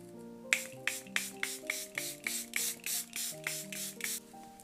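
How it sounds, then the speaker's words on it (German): How Cosmetics Indigo Child setting spray misted onto the face, about a dozen short crisp pumps in a quick even rhythm, close and clear with no talking. "Ich habe jetzt noch von How Cosmetics das Indigo Child, was ich nochmal drüber sprühen werde."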